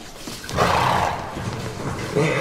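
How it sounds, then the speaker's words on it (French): A frightened, agitated horse gives a loud, close neigh with a rough, breathy whinny lasting about a second, then quieter snorting and movement, with a second burst at the end. "Ce cheval est fou."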